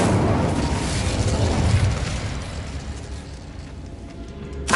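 A fire spell cast in Hogwarts Legacy erupts as a loud, sustained whooshing roar that slowly fades, then flares again in a short burst at the very end.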